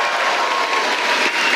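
A rowdy New York City town hall crowd applauding, a dense steady wash of clapping that stays loud and sustained from start to finish.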